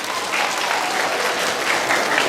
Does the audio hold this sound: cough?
no